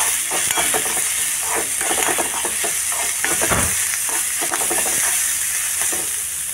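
Chopped onion frying and browning in a pan as it is stirred, a steady close sizzle with scraping stir sounds running throughout, with no talking.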